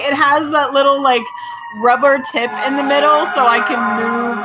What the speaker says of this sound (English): A siren was going past